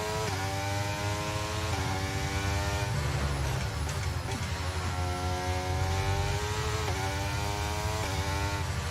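A Formula 1 car in the F1 23 racing game at the Austrian Grand Prix, its turbocharger failing, roars at high revs with repeated rising gear-change sweeps and a steady droning hum, loud and continuous with no talk.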